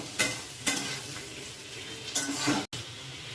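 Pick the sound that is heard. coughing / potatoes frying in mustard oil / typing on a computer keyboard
potatoes frying in mustard oil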